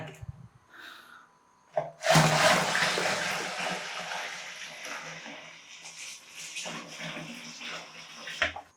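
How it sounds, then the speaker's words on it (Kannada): A bucket of water is poured into a Hotstarr portable mini washing machine, a sudden close gush that splashes loudly and then settles into a steady pouring rush before tapering off. "ಇವಾಗ ನಾನು ಇನ್ನೊಂದು ಬಕೆಟ್ ನೀರನ್ನು ಹಾಕೊಳ್ತಿದ್ದೇನೆ"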